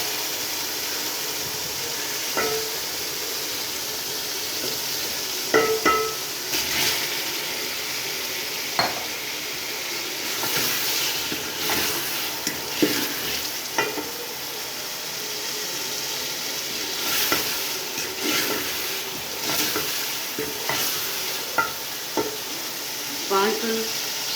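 Masala-marinated chicken pieces fry with tomatoes in a pot for aloo gosht, a continuous moderate sizzle broken by scattered clinks and scrapes of a stirring spoon against the metal.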